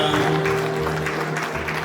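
Guests at a wedding ring exchange clap steadily and fairly loudly, a dense wash of applause carrying through the whole moment.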